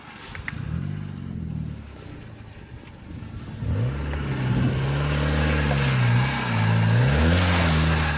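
Fiat Panda 4x4 engine driving slowly along a rocky green lane, a steady mid-pitched drone that rises and falls repeatedly as the throttle works over the rough ground, close and continuous with no talk.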